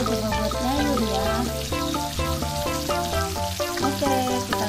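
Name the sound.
frying food in a pan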